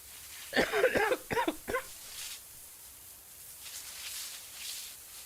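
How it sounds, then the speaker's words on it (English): A quick burst of several close coughs, then quiet room noise with faint rustling. "Hold on, got a cough."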